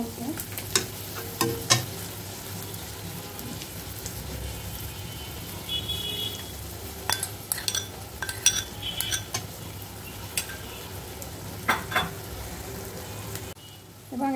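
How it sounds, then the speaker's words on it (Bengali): Fried shrimp and onions sizzle in a pan with turmeric, dried red chili powder and spice paste while a metal utensil stirs and scrapes, adding irregular clinks and knocks over a continuous frying hiss. "দিয়ে এটাকে ভালো করে নেড়ে চেড়ে কষিয়ে নিতে হবে।"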